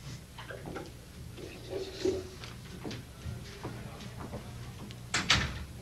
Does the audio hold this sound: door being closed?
yes